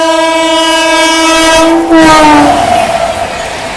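A loud train horn blares with a sustained harmonic tone as an express train rushes past close by at a level crossing in India, the roar of cars swelling midway.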